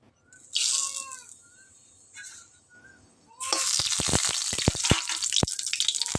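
Two bay leaves drop into hot oil in a home kitchen and start a loud, crackling sizzle with sharp pops, following a quieter stretch with faint bird chirps.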